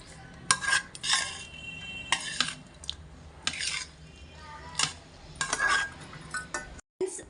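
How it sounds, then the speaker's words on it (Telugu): A spoon stirring lemon juice into a dish, with a series of clinking scrapes against a metal pot or bowl at irregular intervals, close and fairly quiet. "2 నిమ్మకాయల రసం వేసుకున్నాను ఫ్రెండ్స్. కలుపుతున్నాను."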